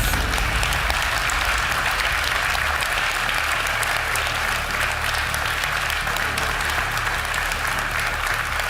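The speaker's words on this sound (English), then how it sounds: "Give him a big round of applause" Sustained applause from a contest audience after a contestant is eliminated, a steady dense wash of clapping throughout.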